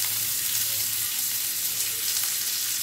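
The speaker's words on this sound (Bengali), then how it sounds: "এরপর আমি দিয়ে দেব হচ্ছে রসুন কুচি" Chopped garlic dropped into already hot oil, frying with a steady, dense sizzle that holds evenly throughout, close and fairly loud, no talk.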